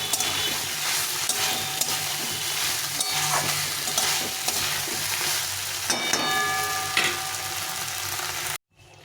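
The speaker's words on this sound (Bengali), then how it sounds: "এখন আমি এর মধ্যে এই ভেজে রাখা আলুটা দিয়ে দিব দিয়ে এটাকে ভালো করে কষে নিই" Fried potatoes stir-fried into a curry in a pan, a dense continuous sizzle with irregular scrapes and clinks of the spoon, close and fairly loud, cutting off abruptly at the end; no one talks.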